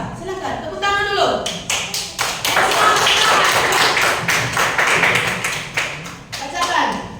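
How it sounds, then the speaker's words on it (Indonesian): Children in a primary-school classroom clap their hands together in a dense, sustained burst of applause lasting several seconds, with children's voices mixed in at the start and end. "Tepuk tangan dulu."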